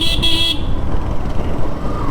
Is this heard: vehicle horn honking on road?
yes